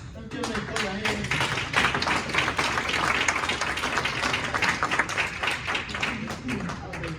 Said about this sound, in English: Let's give them a clap of hands.